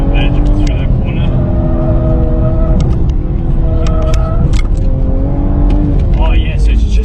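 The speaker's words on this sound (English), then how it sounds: "you put your foot down and it just instant boost, like just goes." Car fitted with a Pedal Commander PC10-BT throttle controller accelerating hard on a track, loud engine roar rising and falling through gears, with someone talking over it throughout.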